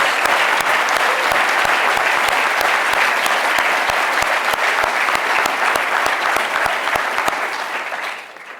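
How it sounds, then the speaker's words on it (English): Sustained, loud applause from a college audience for Tom Bizzuto, dense clapping holding steady throughout before tapering off at the very end. "can we give Tom Bizzuto another round of applause?"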